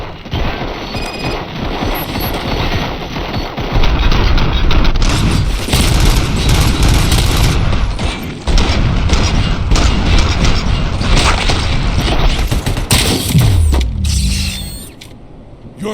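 Gunfire in the RoboCop: Rogue City video game, with heavy booming shots and dense bursts of fire over mechanical clatter, loud and sustained for most of the stretch before it cuts off near the end.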